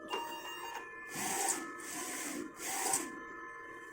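A DTF printer runs a test print after head cleaning, its print head shuttling back and forth in a few repeated, close mechanical passes with a steady whirring underneath.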